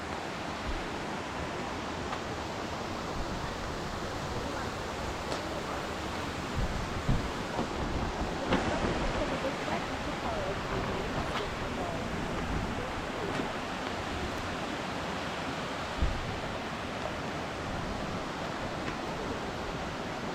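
Broad, continuous rushing of a dark, rain-swollen river in the Carpathians, loud and steady without pauses.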